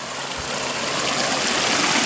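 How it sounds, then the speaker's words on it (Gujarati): Steady rushing, gurgling water from a pump motor flows continuously into a farm irrigation channel by an onion field, close and fairly loud, with no voices. "અહીંયા પાણીનો ખળખળિયો પડશે એટલે મારો અવાજ થોડોક ઓછો આવશે"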